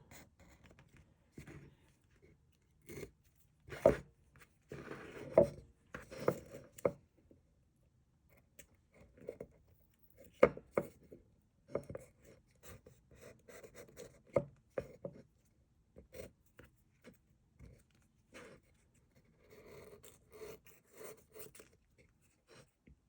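An X-Acto knife runs along the edges of rice paper laid against a wood block, giving quiet, irregular scraping and rasping strokes in short bursts with pauses, close and fairly faint.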